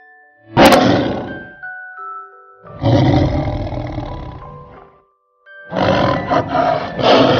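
A lion gives three loud, close roars with short pauses between them, the first sharp and sudden, the others longer and rougher.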